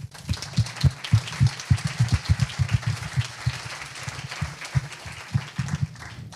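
An audience at an evening gala applauds a bridge construction team, with distinct, fairly close handclaps forming a lively, uneven round of clapping that continues throughout at moderate volume.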